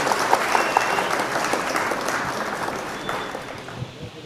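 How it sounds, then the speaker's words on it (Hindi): Audience applause fills a hall at the opening and honoring ceremony of an All India Mushaira in Khatauli, a dense, steady clapping from a large crowd that holds for several seconds with no voices over it. "जोरदार तालियां हमारे मेहमानों के लिए प्लीज"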